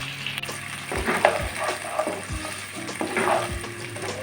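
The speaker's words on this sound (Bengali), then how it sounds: "ফুলকপিটা দিলাম।" Cauliflower goes into hot oil along with potato, carrot and beans, crackling and hissing up close while a spoon knocks and scrapes against the pan several times.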